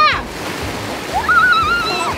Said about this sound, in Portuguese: Olha aí a água!